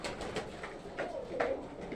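Soft, low cooing of Giribaj pigeons on a farm, a few rolling calls close by over a faint background hum.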